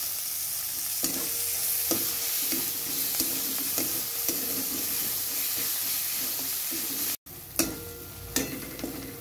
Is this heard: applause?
no